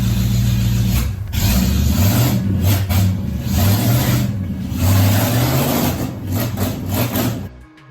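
An engine with a rebuilt carburetor and no exhaust fitted runs very loudly inside a garage, roaring with a steady uneven throb that swells and dips before cutting off abruptly at the end.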